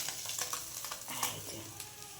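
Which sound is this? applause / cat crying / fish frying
fish frying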